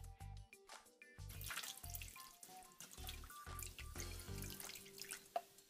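Apple juice poured from a cup into a folded aluminum foil boat, with steady splashing and trickling close by, broken by a few short pauses and dripping spurts.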